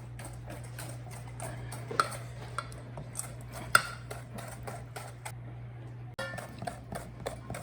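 A whisk taps and scrapes quickly and unevenly against a bowl while egg, vanilla and other chocolate chip cookie batter ingredients are mixed. The clicks are close and fairly quiet over a low steady hum.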